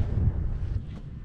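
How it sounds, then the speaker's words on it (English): Strong wind gust buffeting an outdoor microphone at a windy pond, loud low rumble that eases over about a second with no talk. "I just had a wind gust so strong that it blew the camera over"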